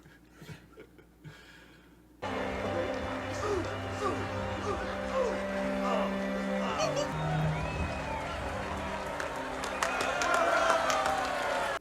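A crowd at a royal wedding feast in Game of Thrones applauds, a steady wash of clapping and murmuring that starts abruptly after a quiet opening and swells toward the end, with voices talking over it.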